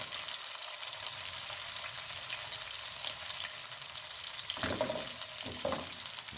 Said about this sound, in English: Once you add the protein in, you let them brown for 30 seconds